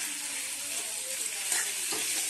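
Onions with garlic and ginger paste frying in a pan for a local chicken and pumpkin curry, a steady hiss of sizzling oil with faint stirring scrapes near the end, no voices.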